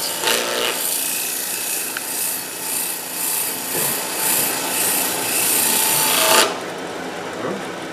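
Sanding the wings of a wooden turned bowl spinning on a lathe, a steady close rasping hiss with a rhythmic pulse that continues for several seconds and then cuts off abruptly.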